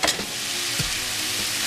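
Ackee and saltfish with butter and seasoned onions sizzles loudly in a hot pan, with brief scraping and tossing sounds at the start and again midway through the frying.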